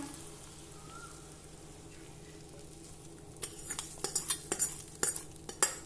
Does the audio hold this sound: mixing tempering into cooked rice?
yes